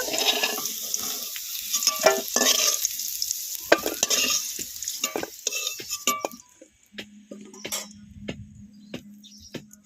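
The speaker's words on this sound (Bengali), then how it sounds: "আলুগুলো লাল লাল করে ভেজে নিয়েছি তুলে নেব" Potatoes fry in a pan, with busy stirring scrapes and clinks over a hissing sizzle, followed by quieter clinks and a low steady hum.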